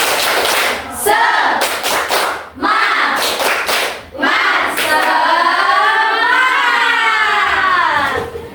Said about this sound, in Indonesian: Ayo kita tepuk semangat sekali lagi.